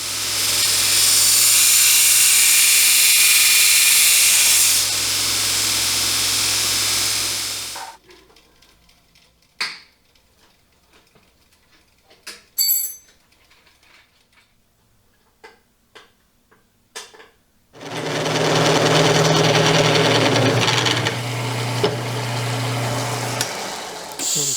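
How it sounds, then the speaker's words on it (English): An angle grinder works a welded metal bracket on a 1920 Buckboard Flyer build, a loud, steady high-pitched whine in two long passes separated by a quiet stretch of faint clicks and taps. "I think grinding that'll be the best way to make it match."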